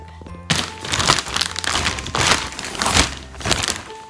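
A good knife cuts open hard plastic packaging on a camping swag, giving loud, close crinkling, cracking and scraping bursts in uneven strokes after a brief quiet start.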